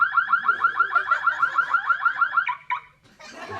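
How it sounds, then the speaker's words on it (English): An alarm set off by a tripped booby trap, blaring as a loud, rapid pulsing warble of about a dozen even cycles, then breaking into a few irregular blips before stopping. "So he reached to turn it off, but accidentally set off the alarm."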